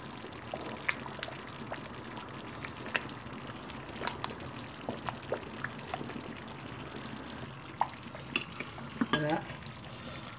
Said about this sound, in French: Le plantain cuit, bien rouge.